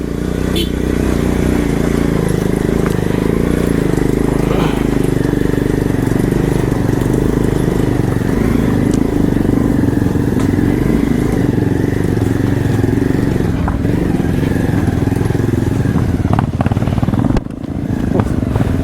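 A Pulsar motorcycle engine with a loose exhaust silencer runs loudly and steadily close by, a rough, rattly exhaust drone that holds for the whole stretch.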